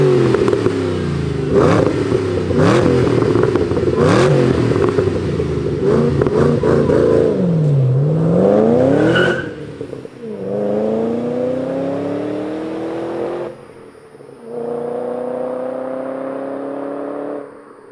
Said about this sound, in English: Let's fire up this P-51A and hear what it sounds like.